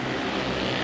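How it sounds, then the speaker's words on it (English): Speedway motorcycles revving together at the start tapes of the 1988 World Individual Final at Vojens: a dense, continuous, loud engine roar with layered droning tones, lasting under a second. "The revs are building, pushing the tapes, Jankowski."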